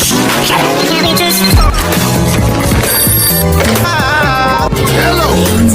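A cartoon telephone ringing among music and sound effects, loud bright repeated trilling tones mixed with shifting musical notes and a bass thud partway through.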